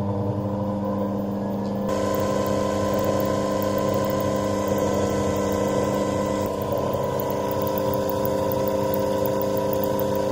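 An alternator test rig powers up and runs, a steady loud motorized hum with tonal whine that rises in intensity when it kicks on and then holds constant, mechanical and close.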